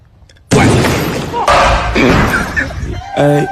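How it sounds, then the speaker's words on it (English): A loud gas stove explosion bursts in suddenly with a heavy thud and crash, followed by a second blast and rumbling debris noise, with a voice breaking in near the end. "That's an explosion."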